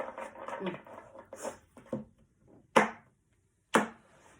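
A quiet voice talks, then two sharp, papery riffles of tarot cards being shuffled, about a second apart.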